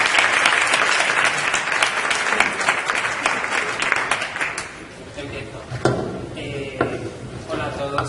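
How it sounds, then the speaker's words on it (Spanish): Sustained audience applause at a Spanish comics library presentation in Murcia, dense clapping filling the first five seconds, then thinning into scattered claps under a voice starting to talk. "un aplauso por la bibliotecaria General de Murcia"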